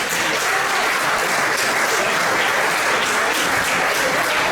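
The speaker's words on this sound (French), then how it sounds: "Je vous demande d'applaudir Joël Deschamps" An audience at a studio inauguration in Guadeloupe applauds loudly and steadily, a dense wash of clapping with no voices standing out.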